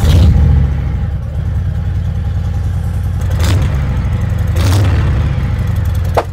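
A deep, rumbling Harley-Davidson V-twin motorcycle engine runs loud and close, with a couple of brief revs rising above its steady throb.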